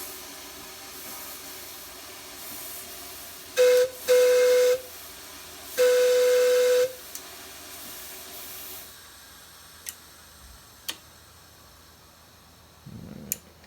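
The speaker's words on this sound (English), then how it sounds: "You can hear the little cylinder valves, they're open, the cylinder cocks." Cylinder cocks on a live steam Allen Mogul locomotive vent as a soft, constant hiss, broken by a few short, loud whistle-like bursts, then followed by scattered clicks and a faint thump.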